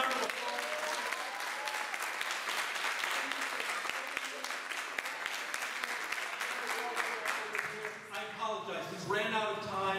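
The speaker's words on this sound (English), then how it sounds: "ladies and gentlemen, can we give them a big round of applause?" An audience at a college hypnotist show breaks into a big round of applause, dense and sustained clapping that fills most of the moment, with voices and cheering rising over it near the end.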